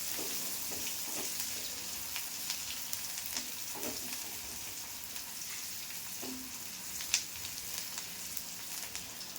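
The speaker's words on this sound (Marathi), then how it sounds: "छान जरा भाजून घेऊ कांदा, तर कच्चा वाजेपर्यंत जरा." Onion frying in oil on a stovetop while preparing a Karnataka-style breakfast, a steady soft sizzle with faint crackles throughout, fairly quiet and with no talking.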